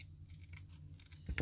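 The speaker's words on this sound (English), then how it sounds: "But I just used my scissors" Scissors trimming around stamped words on a strip of paper, quiet close snips with a sharper cut near the end, alone without talk.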